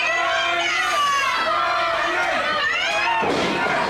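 A wrestler lands a buckshot lariat in the ring with a sharp impact, and the crowd roars in reaction while an excited commentator talks loudly over the noise throughout.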